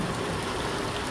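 Heavy rain pours down on a Kashmiri village in a steady, close, broadband hiss that stays even throughout, with no voices.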